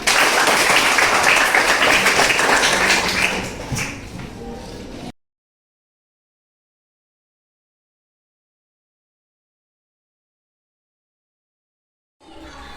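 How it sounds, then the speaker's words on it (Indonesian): Students in a classroom clapping together at the end of a lesson, a close, busy burst of hands that fades after a few seconds, followed by a long stretch of silence and a brief return of room noise. "Tepuk tangan untuk kita semua."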